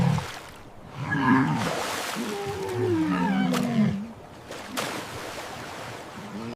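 A walrus gives deep, rumbling groans and a drawn-out bellow, fairly close, with a watery, echoing background.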